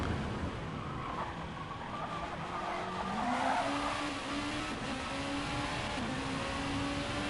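Onboard a Honda NSX race car in a GT Sport multiclass SuperGT race at Fuji, a steady engine drone climbs in pitch as it accelerates, with hints of tire scrub, loud and continuous throughout.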